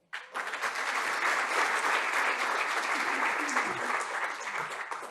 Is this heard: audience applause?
yes